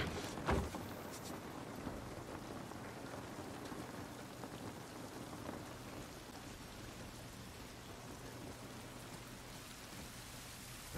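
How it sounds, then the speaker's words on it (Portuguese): Steady rain pours in The Last of Us, with rolling thunder rumbling low beneath the constant hiss and a sharp crack early on. "Essa chuva não vai nos ajudar."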